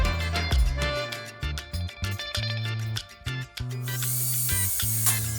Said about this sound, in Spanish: Primero voy a perforar con broca de 964 con el taladro manual.